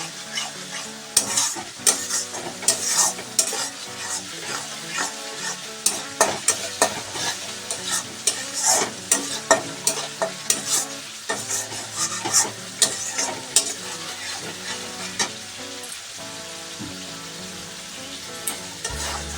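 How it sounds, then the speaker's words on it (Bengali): Spice paste with black pepper and chilli powder stir-fried in oil for a Katla fish red curry, loud continuous sizzling with frequent sharp scraping and clattering strokes of a spatula against the pan. "এবার আমি মশলাটাকে সুন্দর করে কষিয়ে নেব"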